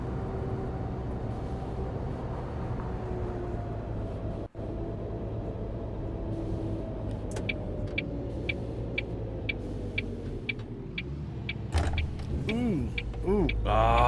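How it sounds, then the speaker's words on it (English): Tractor trailer truck driving in the game On The Road, a steady low engine drone with rising tones toward the end and a series of faint regular ticks; one brief dropout midway, no talk. "Trying to drive a tractor trailer in this game."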